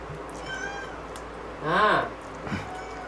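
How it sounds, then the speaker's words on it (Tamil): A cat meows once, loud and close, with a rising-then-falling cry, followed by a shorter faint sound a moment later over quiet room noise. "பூனை ஒன்று எட்டி பார்க்குது."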